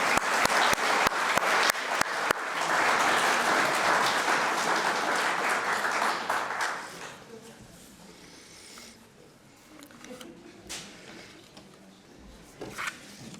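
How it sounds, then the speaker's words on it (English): A church congregation at a Sunday service applauds its new members, loud sustained clapping for about seven seconds that then fades into quieter room noise with a few scattered claps and rustles. "why don't we give all our new members a round of applause"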